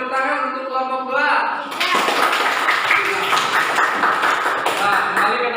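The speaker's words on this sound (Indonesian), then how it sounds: "Beri tepuk tangan untuk kelompok 2." Schoolchildren in a classroom clapping for a group, a dense patter of close applause following a brief spoken voice and continuing steadily to the end.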